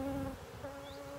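Honey bees buzz as a frame is shaken into a hive box in an apiary, a close, continuous hum with steady wingbeat tones that dip briefly and return.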